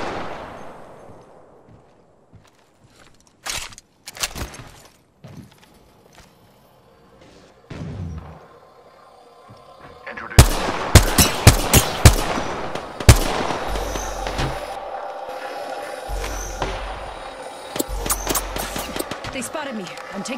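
Gunfire in the battle royale game Apex Legends: sparse thuds early, then from about ten seconds a dense burst of sharp shots and rapid automatic fire, loud and close, with in-game voice lines between them.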